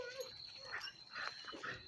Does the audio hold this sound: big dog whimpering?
yes